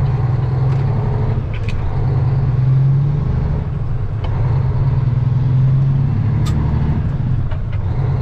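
A semi truck's engine drones steadily from inside the cab on the road as the driver works through gears, a loud, continuous low rumble with a few faint clicks and rattles on top.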